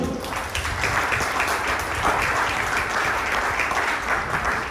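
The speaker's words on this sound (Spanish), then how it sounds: "Dale un aplauso al Señor." A church congregation applauding continuously, a dense even patter of many hands clapping that holds at steady loudness throughout.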